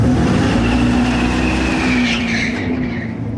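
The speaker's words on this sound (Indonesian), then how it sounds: "Dan meski suara dan bau karet bannya nyata, tapi ciri khas suara knalpotnya adalah buatan." Newest Dodge Charger full-electric car playing an artificial exhaust note, a loud steady engine-like roar with a rising whine and real tire squeal near the end, close and continuous with no talk.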